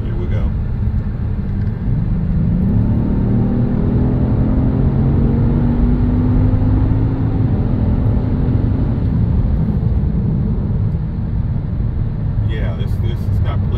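Inside a 2019 Genesis G80 in sport mode, the engine note climbs steadily under acceleration, a loud rising drone over constant road rumble.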